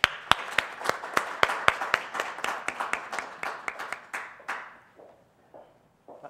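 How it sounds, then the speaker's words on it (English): An audience applauds speakers at a New School event on health and social policy. Sharp, evenly spaced claps ring out loud and close at first, then thin and fade into a few scattered hand claps, with no voices. "So will you join me in welcoming and applauding Nidhi"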